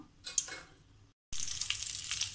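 Pepper karasev dough fries in hot oil with a bright, crackling sizzle that stops briefly, then returns louder and denser for the rest.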